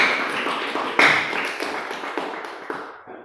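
Applause from a classroom group at the close of a group presentation, a dense patter of hand claps and taps that swells briefly around the second mark and then slowly thins and fades.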